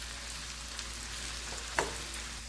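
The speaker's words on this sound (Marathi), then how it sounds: "तेलामध्ये बारीक कट केलेला कांदा व्यवस्थित परतून घ्यायचा" Finely chopped onion sautés in oil with a quiet, steady sizzle under a low hum and one brief clink partway through.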